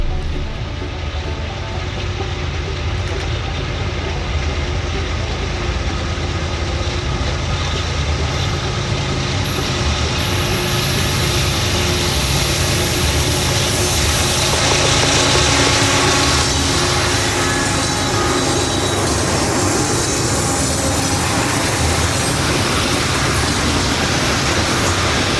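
A freshly loaded Conrail coal train rolls past at speed at Cook's Run, a loud, continuous roar of wagons and wheels that holds steady for the whole stretch without a break.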